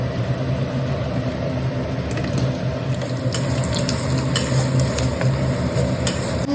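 Manchurian balls fry in a pan at home with a steady, dense sizzle and bubbling. Occasional sharp clinks and scrapes of a utensil sound close by, and there is no talking.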